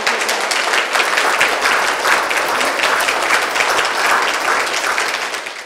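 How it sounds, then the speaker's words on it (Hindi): A crowd at a quiz held in a Buddhist vihar in Nagpur claps loudly and continuously after a correct answer. The dense applause holds steady, then eases slightly at the end. "जोरदार तालियां इनके लिए।"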